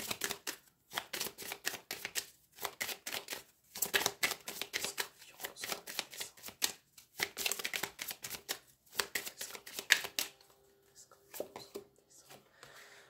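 Oracle cards being shuffled and handled in bursts of crisp riffling and flicking, fairly close and quiet, with short pauses between runs and no talking.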